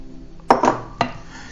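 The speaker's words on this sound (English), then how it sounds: "I'm stirring it up until it makes a solid lump" A spoon knocks against a bowl while pie dough for a blackberry and apple pie is stirred, three sharp clinks in quick succession, close and clear with little else around.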